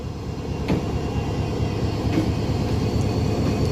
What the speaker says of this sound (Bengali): নতুন করে আবার সব কিছু ঠিকঠাক করে এয়ার প্রেশার রেডি করে ট্রেনটা পুনরায় ছেড়ে যাচ্ছে